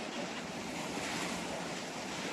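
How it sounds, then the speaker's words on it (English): Strong wind and surf on a Castaway Cay beach on a blustery day, a constant roaring wash of waves and gusting air buffeting the microphone, with no voices. "It's a windy day."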